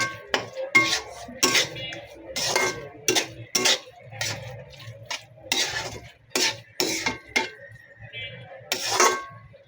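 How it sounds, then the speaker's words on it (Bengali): Metal spoon scraping and clinking in a pan while mixing cabbage, carrot, potato and bean vegetables with fresh lemon juice for a noodle and pasta dish, in irregular separate strokes and knocks with short quiet gaps between them. "তো এখন সবগুলো একসাথে ভালো করে নাড়াচাড়া করে মিশিয়ে নেব"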